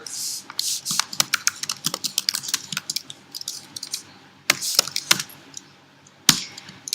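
Fingers bashing a computer keyboard, with quick irregular bursts of sharp key clicks close to the microphone, a brief pause midway and then a few harder, louder strikes toward the end.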